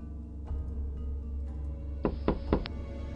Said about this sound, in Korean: 눕는 순간 트렁크 쪽에서 노크 소리가 들리더군요